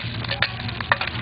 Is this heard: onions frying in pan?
yes